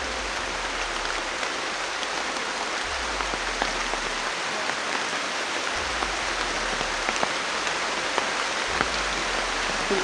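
Heavy rain pours down in a steady, dense hiss of drops on surfaces, loud and continuous throughout, with a low rumble pulsing underneath.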